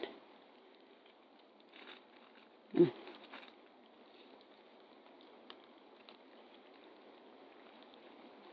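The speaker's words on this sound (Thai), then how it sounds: "มันฝนลงเม็ดด้วยไง มันมีฝนด้วย" Light rain falling outdoors in a backyard in America, a faint, thin patter spread evenly over several seconds, with one brief louder knock partway through and no speech.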